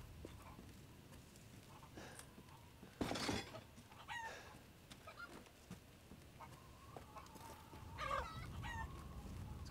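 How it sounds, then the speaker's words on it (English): Chickens and a rooster in Resident Evil Village cluck and squawk in scattered bursts, with a louder flurry near the middle and again toward the end, no talking over them. "That's a lot of chicken."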